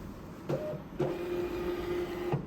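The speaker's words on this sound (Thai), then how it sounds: "สั่งพิมพ์ นะครับ เช็คความเรียบร้อยนิดนึง นะครับ แล้วก็กดพิมพ์" An XP-DT426B USB barcode sticker printer feeding out labels, a steady mechanical whir lasting over a second between short clicks, close and fairly quiet in a room with no talking.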